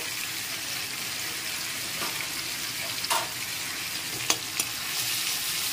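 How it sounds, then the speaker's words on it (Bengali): Spice paste with turmeric and ground spices fries in a pan, giving a steady low sizzle with a few faint scrapes and clicks of stirring, recorded close and fairly quiet. "এখন খুব ভালো করে কষিয়ে নিচ্ছি মশলাটাকে।"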